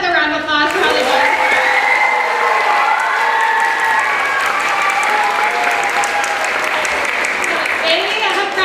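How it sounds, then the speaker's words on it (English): A crowd at an elementary school talent show applauds loudly and steadily, with some cheering mixed into the clapping that fills the whole stretch. "Can we just give them another round of applause for how they work?"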